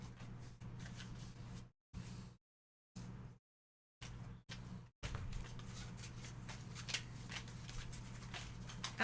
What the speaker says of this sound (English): Yeah, we already removed them, so now we're just shuffling in.